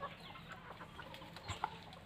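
Farm chickens cluck softly in short, scattered calls against a quiet, faintly noisy background, with no talking.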